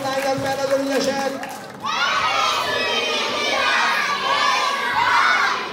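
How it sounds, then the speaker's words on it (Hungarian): A crowd at a village festival cheers loudly for performing young girls, many children shouting and cheering together after a short stretch of talk and background noise. "kérem egy nagy tapsot magatoknak, meg a fellépő kislányoknak"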